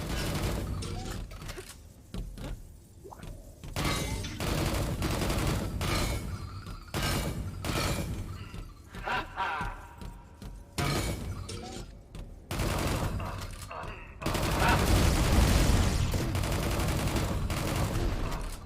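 Gunfire and explosive rocket blasts from the Nightmare Reaper shooter game crash in rapid, choppy volleys separated by short gaps, loud and close throughout.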